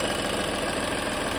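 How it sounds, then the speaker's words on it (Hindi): A VW Polo diesel engine idles steadily at a low, even hum, fairly quiet and close, with no other sounds over it. "इसलिए गाड़ी चालू ही छोड़े हुए हैं"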